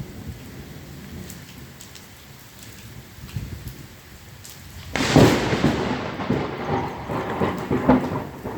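Heavy rain pours steadily during a thunderstorm over farmland, then a sudden loud thunderclap from a nearby lightning strike bursts out and rumbles as the downpour continues, with no talking.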